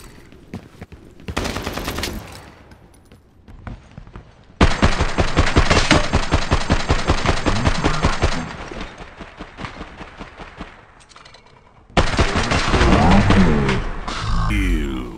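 Bursts of automatic gunfire in the shooter game Lost Light, loud rapid strings of shots in several long volleys separated by quieter gaps with scattered single shots.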